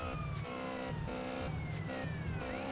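An ambulance siren in the video game GTA San Andreas wails steadily and loudly, with rising and falling tones over a constant engine drone and no pause.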